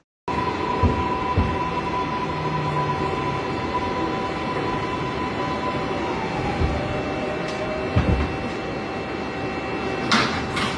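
Aboard a Woodlawn-bound New York subway 6 train, a continuous loud rumbling roar fills the car, with a steady whine, occasional clunks and a brief hiss near the end.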